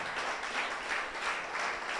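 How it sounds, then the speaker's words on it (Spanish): A church congregation applauds, heard faint and somewhat distant as a soft, steady patter of many hands with a gently pulsing rhythm. "Dele un fuerte aplauso al Señor."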